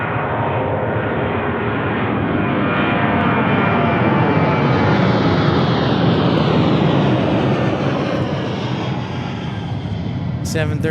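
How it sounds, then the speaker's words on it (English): An Alaska Airlines jet passes at Anchorage airport, its loud, steady engine roar sweeping through the whole stretch, swelling slightly toward the middle and fading as it goes. "Here goes Alaska Airlines."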